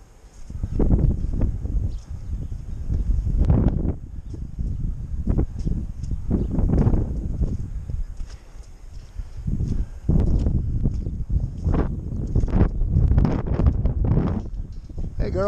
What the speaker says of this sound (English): So it's windy out here